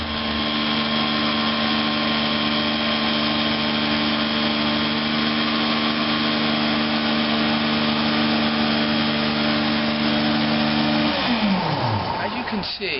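A Rotary Dry Master electric carpet cleaning machine runs in a home, a loud, steady motor drone with a constant hum. It stays unchanged for a long stretch, then winds down near the end.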